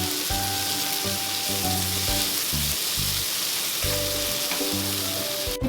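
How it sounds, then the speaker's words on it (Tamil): Chopped onion and tomato sizzle steadily in a pan while masala Maggi is being prepared, a constant close frying hiss with a soft rhythmic tonal hum underneath and no talking. "அதே மாதிரி தக்காளியும் நல்லா குக் ஆகணும்."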